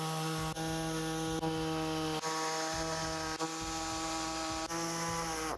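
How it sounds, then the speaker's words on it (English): A power saw cuts through a Chrysler Pacifica underbody trim panel, a loud, close, steady harmonic whine with rhythmic dips as the blade bites in repeated strokes. "Measure and trim the underbody trim panel in accordance with the instructions."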